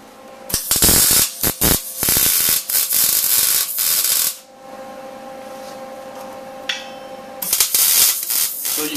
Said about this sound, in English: we just weld on this next plate